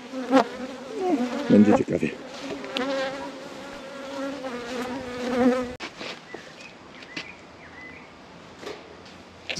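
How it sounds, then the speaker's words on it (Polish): Honeybees buzz loudly around an apiary during larva grafting work, a dense droning hum with individual bees passing close, while someone speaks briefly. "Zaatakowały mnie pszczoły."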